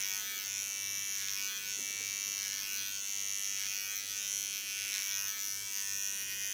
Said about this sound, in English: take my small clipper again